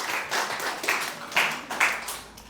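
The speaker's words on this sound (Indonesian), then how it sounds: "Tepuk tangan dulu ya buat Mas Ahmad" Students clapping in a classroom after a classmate presents a folk tale; a short, loose round of applause with a few uneven surges, fading out near the end.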